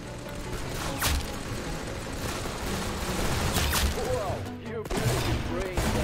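Dense gunfire in the Roblox game Arsenal, a continuous barrage of close shots and booms with a few sharper cracks standing out, and a voice talking underneath.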